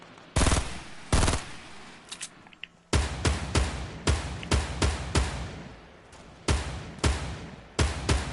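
Enemy players' gunfire in a video game cracks out in loud, sharp bursts, a few isolated shots followed by rapid clustered volleys, close and dominant with almost no talk over it.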